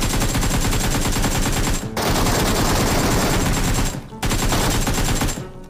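Steel AK rifle in a shooter video game firing long, dense automatic bursts, loud and close, broken by two brief pauses.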